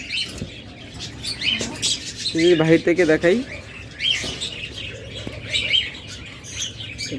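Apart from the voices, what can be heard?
lutino red-eye peach-faced lovebird pairs chirping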